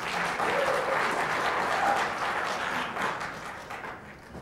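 An audience at a League of Women Voters candidate forum applauds, a dense even patter of many hands lasting several seconds before tapering off, moderately distant in a room.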